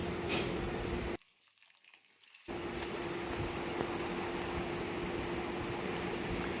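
Potato and pointed gourd pieces slid into hot oil together for a village-style Bengali potol dish, a dense continuous sizzle up close that drops briefly before returning full and steady.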